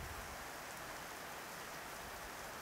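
Rain falling steadily, a dense even hiss of drops on surfaces that holds constant and fairly close throughout, with no voices.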